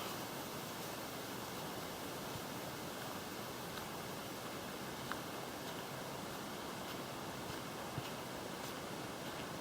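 Steady trickling water in a stream at Mooney Mooney Ponds on the Great North Walk in Brisbane Water National Park, a continuous, even wash of flow with no voices.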